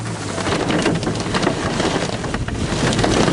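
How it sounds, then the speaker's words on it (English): Hail from a severe thunderstorm in north-central Indiana pelting surfaces in a dense, crackling patter, steady and loud with wind gusting behind it. "We have hail now."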